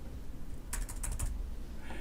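Fingers tap a computer keyboard in a quick, close burst of about five crisp keystrokes, with quiet room tone before and after.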